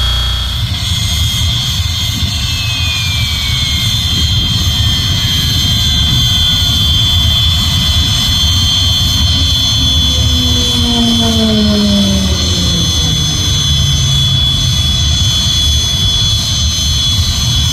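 Jet aircraft engine at the Temora Air Show, a loud, sustained roar and whine with a pitch that slides downward as it passes, heard alone.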